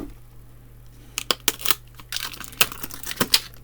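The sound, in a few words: cutting open a package of model paints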